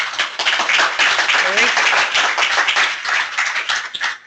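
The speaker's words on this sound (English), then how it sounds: "First, I want to give Paul a round of applause." A smaller audience at an environmental site remediation training session claps for a speaker named Paul, with distinct, uneven hand claps close by and a voice briefly audible partway through.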